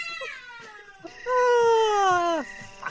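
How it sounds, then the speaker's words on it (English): A cat meows in the horror video game The Immemorial Order, one short cry followed by a longer, loud, drawn-out wail that falls at the end, heard close and clear with only faint sound around it. "Oh, fucking cat."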